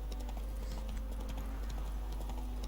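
Roach, the horse in the video game The Witcher 3, trots with a steady clip-clop of hooves over a constant low rumble, with no voices.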